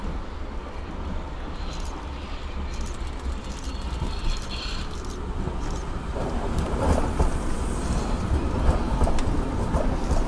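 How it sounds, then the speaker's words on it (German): Nuremberg U-Bahn DT1 subway trains rolling into Bauernfeindstraße station, a loud continuous low rumble of wheels and motors that swells toward the end, with clanks and squeals on top. "Wieder vereint fahren beide Fahrzeuge in den Bahnhof Bauernfeindstraße ein."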